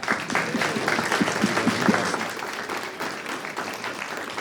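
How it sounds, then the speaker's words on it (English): Studio audience at Mama Dog Studios clapping during a live creator talk, dense sustained applause that swells early and then settles to a steadier patter. "Look at everybody clapping after everything I say."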